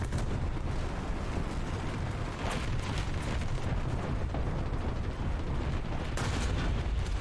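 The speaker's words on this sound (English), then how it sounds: "Artillery is on the position." Artillery strike explosions in War Thunder, a continuous rumbling barrage of heavy booms and bursts, loud and dense, with sharper blasts standing out near the middle and end.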